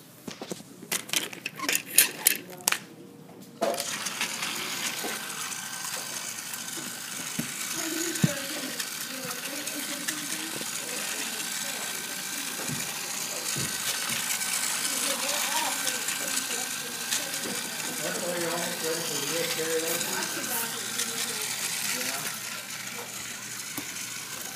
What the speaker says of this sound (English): So let's give all these engines a test run.